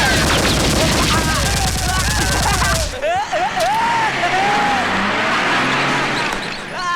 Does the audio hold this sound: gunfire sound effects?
yes